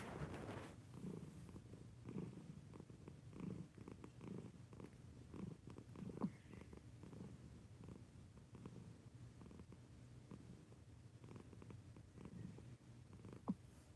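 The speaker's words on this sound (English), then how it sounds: "Can you hear her purring?" A pet cat purrs close by in a steady, low rumbling rhythm, each breath cycle pulsing softly and continuously, with no talking over it.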